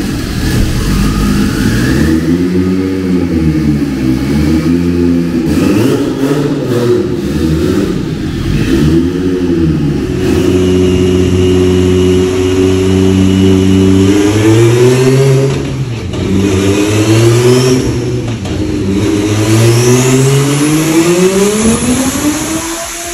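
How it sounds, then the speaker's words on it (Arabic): A drift car's engine revs hard on a dyno during pre-championship checks, sweeping up and down repeatedly in loud, continuous pulls with shifting pitch, close and alone with no talk. "السيارة تطلع على الداينو وتتشيك عليها قبل أي بطولة دريفت"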